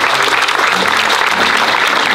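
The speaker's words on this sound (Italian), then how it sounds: "ed è quello del dottor Malvezzi, per il quale chiedo un applauso importante" Audience applause at a school naming ceremony in Longone, a dense, steady burst of clapping filling the whole stretch at close range with no talk over it.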